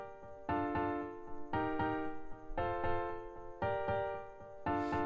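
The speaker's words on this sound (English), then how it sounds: "So I started with a Steinway grand piano, which just sounds like this." A Steinway grand piano plays four sustained chords in a slow repeating progression, each one struck cleanly and ringing full, about a second apart, heard alone with no voices.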